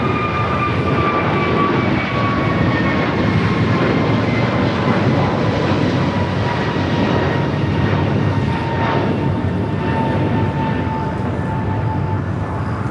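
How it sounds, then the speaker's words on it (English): American Airlines Airbus A321neo taking off at Los Angeles International Airport, a steady loud engine roar with high whining tones that slowly fall, continuous and close, no voices. "Next takeoff, American Airlines flight 247 heading to Kona,"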